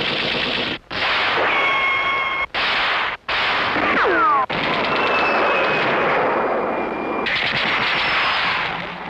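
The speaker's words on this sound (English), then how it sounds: "Each gun makes lots of battle sounds." Sound of Power toy military and Western rifles by Marks fire loud, continuous battle effects: rapid machine-gun bursts, shot bursts, ricochet-like whines and long sustained rattles, separated by a few brief gaps.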